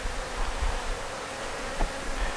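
Honey bees buzz around an open hive during a frame inspection, a steady, dense hum of many insects close by with no voices over it.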